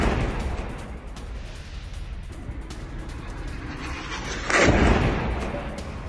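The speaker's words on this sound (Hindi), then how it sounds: "इजरायली ड्रोन से कई इमारतों में धमाके हुए हैं।" Israeli drone strikes hit buildings in Lebanon, bringing a sudden heavy blast near the end over a constant rumbling din of distant fire and low booms, loud and rolling without any voices.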